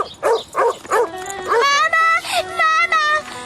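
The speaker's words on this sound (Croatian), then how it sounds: "Pas mu je zvučao ljutito." An angry dog barks in a series of short, loud barks that give way to longer whining, yelping cries. It is close and prominent, and a voice may be present.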